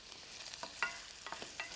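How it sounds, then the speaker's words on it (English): Vegetables sizzling with cumin in a frying pan give a steady, soft hiss, broken by scraping clicks as they are stirred, close by and fairly quiet. "You can hear that nice sizzle."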